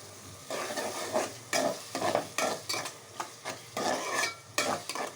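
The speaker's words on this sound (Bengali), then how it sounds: "মশলা কষানো হচ্ছে, কষিয়ে" Spices stir-fried in a hot pan, with repeated bursts of sizzling and scraping as a spatula stirs them in an uneven rhythm, close and fairly loud with no talking.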